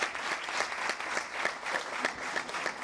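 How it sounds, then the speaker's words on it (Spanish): Sustained applause from a crowd at a tribute ceremony for a long-serving volunteer firefighter, with steady overlapping claps at moderate distance and no talk over it. "Así que un gran aplauso, pero grande de verdad, para don Urbanito"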